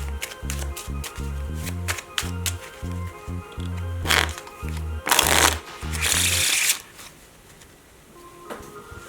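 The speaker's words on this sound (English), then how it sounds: "take a deck of cards and shuffle them." A deck of playing cards being shuffled up close, with repeated riffling bursts and crisp snapping cascades in quick succession, ending with a louder bridge-style riffle and then quieter handling.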